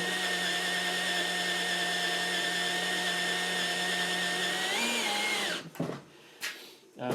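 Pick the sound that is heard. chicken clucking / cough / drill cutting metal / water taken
drill cutting metal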